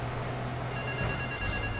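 A telephone rings in GTA III, a steady electronic trill repeating over a low game drone and background hum, moderately loud and without talk.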